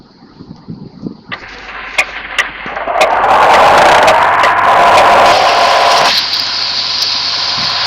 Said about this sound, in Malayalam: എൻജിൻ സൗണ്ട് ചെയ്ത് നോക്കാം.